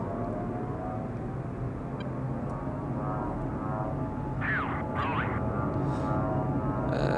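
An A-10C jet in the DCS flight simulator spools up for a heavy takeoff, a steady droning engine hum and whine holding fairly faint and even throughout, with a few brief tonal cockpit chirps near the end.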